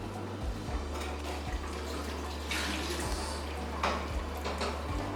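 Liquid from a scorched milk mixture being drained, a steady close trickle and pour with a low hum underneath and a few soft clinks of a pot or bowl.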